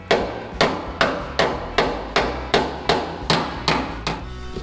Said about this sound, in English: So now I can come with my flat hammer here